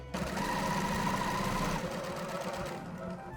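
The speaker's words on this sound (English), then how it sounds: "and sew at a half seam allowance" A sewing machine stitches a seam on dress bodice pieces, its fast, steady motor hum and needle chatter running continuously close by and fairly quiet before easing off near the end.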